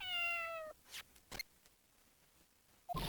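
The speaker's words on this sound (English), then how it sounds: "If y'all didn't hear that cat meow, that's a clue." A short cat meow sounds at the end of a transmission in the Phoenix Wright: Justice For All video game, closing a run of falling electronic tones, with a few soft clicks and faint shuffles in the quiet between.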